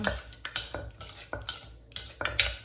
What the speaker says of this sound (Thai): ใส่มะนาวหมดเลยนะคะ ที่เห็นในจานเมื่อกี้ แล้วก็คนอีกรอบหนึ่ง